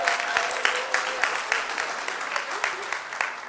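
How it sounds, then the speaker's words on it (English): A crowd claps steadily for a few seconds, a dense, fairly even patter of many hands at moderate distance with no speech over it. "Let's give Julius a big round of applause"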